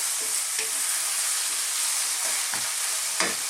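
Chicken and vegetables stir-frying in a wok over high heat, with a steady loud sizzle broken by a few sharp scraping strokes of the spatula against the metal.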